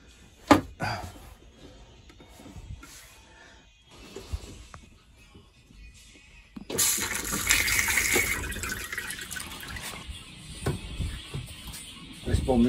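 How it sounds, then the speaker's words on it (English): A newly fitted flushing toilet on a narrowboat gives a sudden gushing rush of water partway through, lasting several seconds, after quieter knocks and handling sounds nearby. "We have a flushing toilet."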